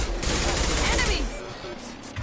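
Rapid gunfire in a Mass Effect 2 firefight, dense bursts of shots packed close and loud across the moment, with game speech mixed in beneath.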